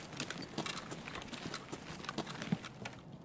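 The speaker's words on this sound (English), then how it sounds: "Someone's on metal, is that you?" Faint, quick footsteps patter on a metal surface in a video game, an irregular run of light clanking steps heard at a distance with no talk.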